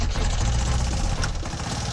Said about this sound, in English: And the engine started, sweet as a nut.